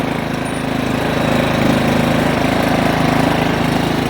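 A lawn tractor engine runs at a steady idle just after a choke start, giving a loud, close, rhythmic chugging that holds constant for a few seconds with no voices over it.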